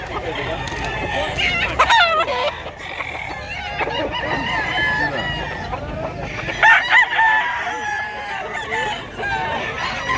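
Chickens cluck and roosters crow repeatedly at a Cebu poultry seller's, several crows overlapping on a busy farmyard background, close and fairly loud, with people talking faintly underneath.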